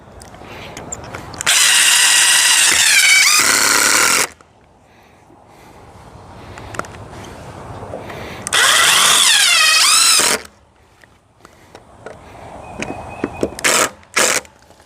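A power drill drives screws into solar panel mounts in two long, loud, steady whirring runs with pitch shifts as each screw seats. Quieter shuffling and clicks fall between the runs, and a few short bursts of drilling come at the end.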